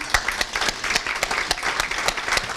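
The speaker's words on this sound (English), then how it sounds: "So round of applause for them." An audience at an annual meeting gives a short burst of applause, with dense, close hand claps and individual sharp claps popping out through the brief round.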